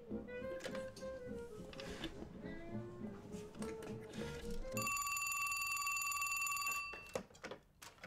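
A telephone borrowed in a café rings in a steady two-second burst of bright electronic trilling, loud and close, after a stretch of murmured conversation and room noise.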